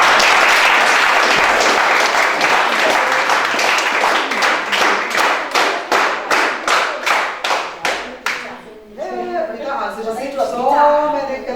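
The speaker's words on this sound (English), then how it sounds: "So many claps, huh?" Class 8 students at Arya Primary School fill the room with loud applause that settles into steady rhythmic group clapping, slowing and thinning out before voices take over at the end.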